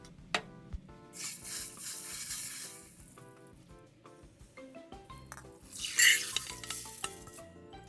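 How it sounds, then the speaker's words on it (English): Azuki red beans being washed in water, with splashing and stirring bursts, rattling of beans against the container and gentle dripping in between, close and fairly quiet over soft background music. "Wash red beans."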